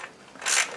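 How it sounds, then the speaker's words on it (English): A ratchet doing the final tightening of bolts on a 1999 Ford 2.5L engine: a short burst of clicking, louder toward the end, with no talk. "Alright, we're going to do the final tightening."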